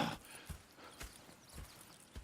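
Horses in the video game Red Dead Redemption 2 clop softly at a slow walking rhythm, faint and distant with no talking.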